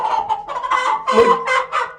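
A hen clucks and squawks as it is picked up, a run of loud, close, agitated calls in quick bursts.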